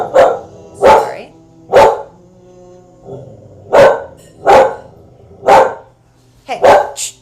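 A dog barks loudly and close by during a yin yoga session, seven sharp single barks spaced roughly a second apart, with a brief pause midway.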